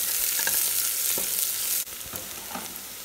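Ginger and garlic sizzle and fry in hot oil in a pan for brinji rice, a steady close hiss with a few stirring scrapes, dropping slightly after a sharp break partway through.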